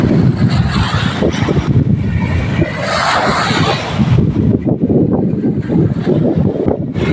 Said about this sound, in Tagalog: Mga ka-birds, sobrang lakas na hangin.